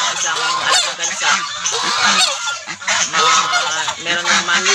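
Domestic geese on a rural farm honk loudly and continuously at close range, several harsh overlapping calls forming a dense, noisy chorus.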